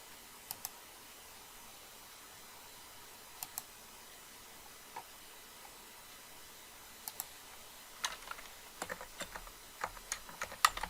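Someone types on a computer keyboard while entering data, starting with sparse, quiet isolated clicks and building to a quicker run of keystrokes near the end, against a faint, steady background hiss.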